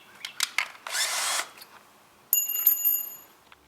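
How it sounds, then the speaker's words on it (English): Power drill driving screws into the boards of a raised garden bed: short close whirring bursts, a longer buzzing run, then a ringing metallic clink and a few light taps, with quiet gaps between. "I'm going to go ahead and put my drill bit in and start piecing this thing together."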